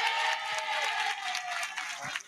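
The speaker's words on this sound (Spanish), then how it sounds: "Ahora todo el mundo que está aquí alrededor aplaude" Stadium crowd at a Barça women's Gamper trophy event applauding the players, a steady wash of clapping at moderate distance that holds throughout without a break.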